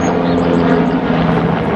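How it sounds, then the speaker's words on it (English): Helicopter flying over during a Memorial Day air show, a dense, steady rotor-and-engine rumble that holds loud for a brief moment, with no voices. "That's a helicopter."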